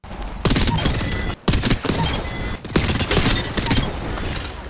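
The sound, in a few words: Nemesis Rifle burst energy weapon firing in a video game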